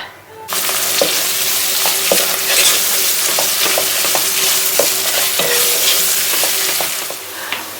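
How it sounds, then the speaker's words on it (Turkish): Meatballs sizzle loudly in a hot pan, a constant crackling fry with occasional clinks and scrapes of stirring. "bir de köfte kızartacağım"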